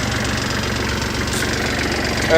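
A Kubota GL300 tractor engine idles steadily with an even low rumble and faint knocking rhythm, close by and without any talking.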